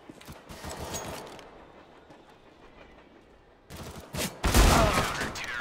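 Gunfire in a Counter-Strike match on the map Train, with quick bursts of shots that swell loud near the end after a quieter stretch with a commentator's voice.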